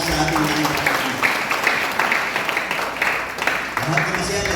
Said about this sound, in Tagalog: Yung naniniwala daw pumalakpak ng malakas sa ating langit.